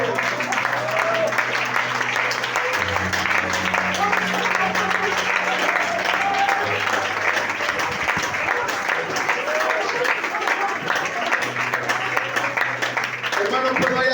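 A church congregation claps through a worship service, steady dense applause with a low sustained musical drone underneath and a voice talking over it for much of the stretch.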